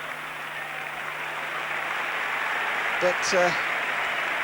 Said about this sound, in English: gets the applause again